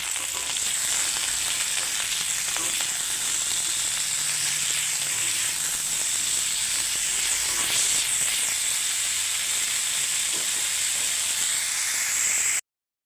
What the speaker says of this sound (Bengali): এখানে গাজর আর আলুটা ভেজে নিচ্ছি খিচুড়ি দেওয়ার জন্য